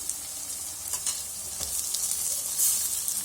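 Onion, garlic and tomato sizzle in a frying pan with steady hiss and occasional stirring scrapes, close and fairly quiet, with no talking.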